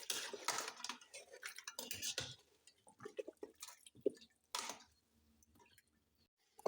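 Metal spoon scrapes and clinks against a pressure cooker while stirring beef trotters in water, in short irregular bursts, loud at first, then sparser taps and a few soft knocks.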